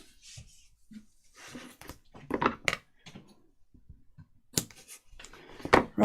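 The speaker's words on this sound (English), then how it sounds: "Sorting my rings out." Rings being sorted by hand, giving scattered small metallic clinks and taps at uneven intervals, fairly close and moderately loud, with brief quiet gaps between bursts of handling.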